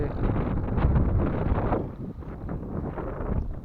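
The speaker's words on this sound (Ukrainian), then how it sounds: "На полі вітер." Wind gusts steadily across an open ploughed field in autumn, heavy buffeting on the microphone that eases slightly partway through, with no voices.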